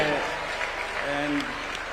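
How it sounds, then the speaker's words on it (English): An audience at an awards night at KICC applauds steadily, the clapping dense and continuous. A speaker's voice carries over it through most of the moment. "Please a round of applause."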